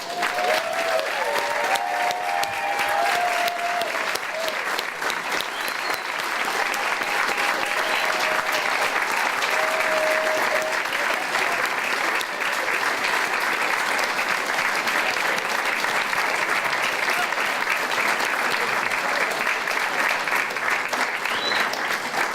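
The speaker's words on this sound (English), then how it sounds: "if the honorees, current and former, would stand so the rest of us can applaud you" Honorees, current and former, receive sustained applause from a large seated audience, a dense, even roar of clapping that holds steady for over twenty seconds with a few faint voices beneath.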